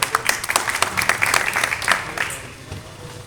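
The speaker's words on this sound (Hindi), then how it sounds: "सही तालियों से स्वागत करें।" Applause from the audience at a village meeting in Madanpur Khadar, a dense burst of many hands clapping that swells early and then thins out and fades away over about three seconds.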